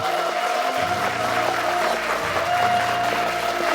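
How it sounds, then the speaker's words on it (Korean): Studio audience gives a big round of applause for a culture minister on a Korean government talk show, a full, steady burst of clapping sustained throughout with faint music underneath. "여러분 큰 박수 부탁드리겠습니다"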